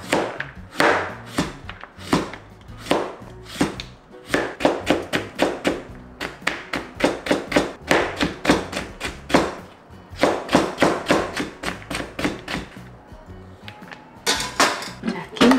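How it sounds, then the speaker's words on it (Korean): A knife julienning cucumber on a cutting board, with quick rhythmic tapping chops in rapid bursts and short pauses, close and crisp throughout. "오이 채 좀 쓸게요"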